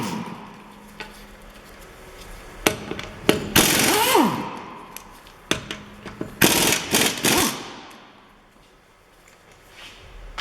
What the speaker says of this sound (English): Right, first thing, get the wheels off.